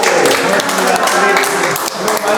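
A gathered group claps for their teacher in a dense, steady burst of applause that fills the whole moment, with voices speaking over it.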